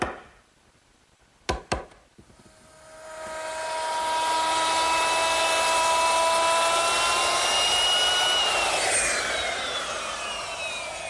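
A wood router cuts a rabbet along the back edge of a chest top. A few sharp knocks come first, then the motor spins up to a loud, sustained whine that shifts pitch as the bit bites into the wood.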